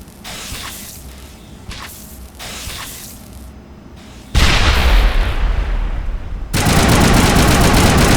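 Combat in Mass Effect Legendary Edition: rapid bursts of weapon fire crackle for several seconds, then a loud grenade blast erupts and roars, followed by dense sustained gunfire, all close and intense with no voices over it.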